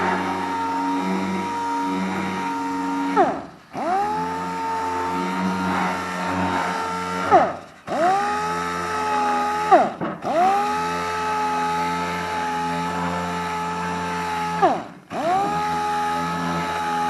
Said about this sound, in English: get that sanded down, and then we'll get the front part finished up